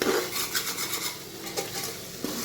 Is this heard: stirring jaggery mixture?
yes